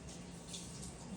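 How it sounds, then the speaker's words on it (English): Tap water runs steadily into a kitchen sink as hands are washed during lasagna preparation, a short, even splash of moderate loudness with no talking. "wash my hands"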